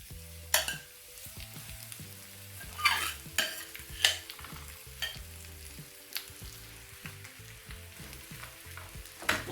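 A cabbage and egg mixture is tipped into a very hot pan of olive oil and sizzles steadily up close, with scraping and tapping from a utensil at intervals and a low hum running underneath.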